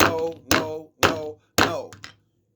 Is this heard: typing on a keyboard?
no